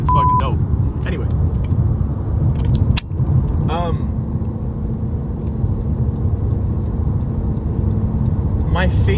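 A truck on the road goes past with a steady rumbling engine and road noise that lasts the whole stretch, louder near the start, while a person talks over it.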